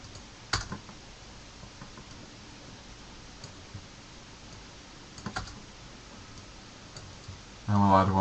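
Mouse clicks on a computer editing timeline, a few sharp isolated clicks spaced apart over quiet room noise, ending in a brief louder burst.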